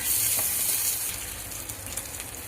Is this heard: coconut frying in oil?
yes